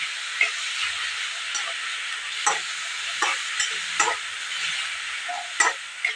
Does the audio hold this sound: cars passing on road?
no